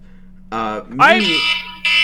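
An alarm signalling incoming nukes sounds in short electronic bursts, a buzzy tone, then a rising wail, then another buzz, loud and close, over a low background hum.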